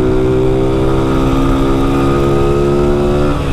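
A Honda Start 160 motorcycle with no air filter, carrying a passenger on a late-night delivery ride, drones loud and close with a steady engine tone that eases slightly near the end, with no voices.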